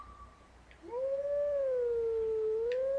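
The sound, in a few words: wolf howling a melody in video game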